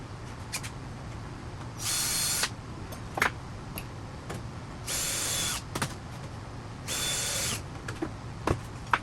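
A power drill bores holes into the bottom skin of an aircraft fuselage in three short, bright bursts, each about half a second long, with small clicks and taps between them in a quiet workshop.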